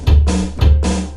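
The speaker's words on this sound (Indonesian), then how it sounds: "kalau ini kan aku pakai drum rock" Rock drum preset from an electronic drum module mounted on a guitar: two loud, close kick-and-snare pairs with boomy low thumps and bright cracks, no talking.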